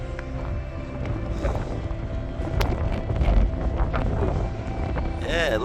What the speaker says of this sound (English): lovely bit of wind, some big breakers, not as big as yesterday